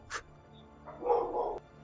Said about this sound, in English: The dogs went crazy, so I couldn't tell you immediately.